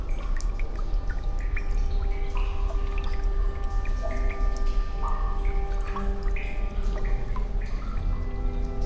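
Mountain water drips steadily inside a salt mine, scattered drops and small trickles over a constant low background hum, with no voices.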